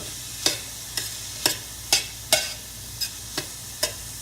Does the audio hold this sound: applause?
no